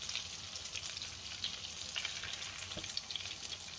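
Parasol mushroom cap frying in a pan, giving a steady, close crackling sizzle with scattered small pops throughout and no talking.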